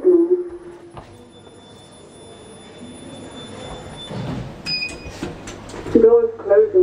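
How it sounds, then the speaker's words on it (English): Lift doors sliding open at a floor of a Brunel University passenger lift, a motor whine and rattling door movement rising in the middle, with squealing tones and a person speaking over it. "Second floor, nothing level, surface, easy and door opening."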